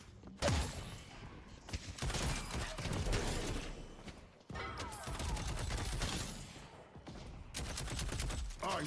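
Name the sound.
rapid gunfire in Deadlock video game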